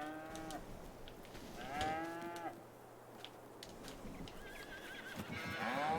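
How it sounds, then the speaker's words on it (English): Cattle mooing in the farming game Farming Simulator 22, several long drawn-out moos repeating across the stretch, fairly close over a steady ambient farm background with no talking. "Hey, cows."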